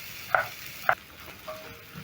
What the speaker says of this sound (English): So I'm going to be cooking the onions